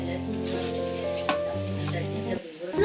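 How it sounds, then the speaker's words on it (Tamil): Sautéed ingredients stirred into ghee rice in a pot, a close continuous sizzling hiss with scraping stirring motions and a brief dip before picking up again. "இப்போ வந்து உள்ள அரிசிக்குள்ள போட்ட பிறகு நல்லா கிண்டிக்கணும்."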